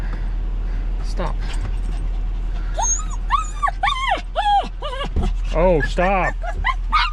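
A dog whimpers and gives high, rising yips in quick bursts close by. Someone speaks briefly over the cries, and a low engine-like hum runs underneath.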